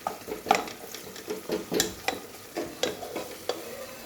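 Curry leaves stirred into hot oil in a pan, soft sizzling under a series of rhythmic spoon scrapes and light metal taps, fairly quiet and close.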